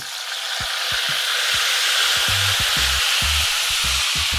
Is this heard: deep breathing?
no